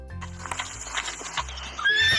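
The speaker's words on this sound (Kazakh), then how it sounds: "Біраздан соң суырдың қасына шөлдеп ат келеді." A thirsty horse in an animated Kazakh folk tale trots with steady clip-clopping hooves over a low musical backdrop, then lets out a sharp, rising whinny at the very end.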